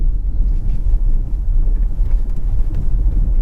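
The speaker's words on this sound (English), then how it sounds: "It's time to take it down our neighborhood bumpy road. See how it handles the potholes and speed bumps and various patches." A Genesis GV60 electric SUV rolls over a rough neighborhood road of potholes, speed bumps and patches, a continuous low cabin rumble with uneven thuds and road noise, fairly loud and without voices.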